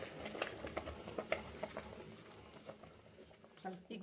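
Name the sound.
stirring jowar flour into boiling water for sangati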